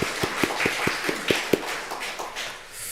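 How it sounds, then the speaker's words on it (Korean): A Sunday worship congregation at a Korean church in Seattle gives thankful applause: a run of roughly eight crisp, rhythmic claps at moderate volume that quickly thins out and fades into the room's quiet. "우리 한번 감사한 마음으로 주께 감사의 박수를 했으면 좋겠습니다"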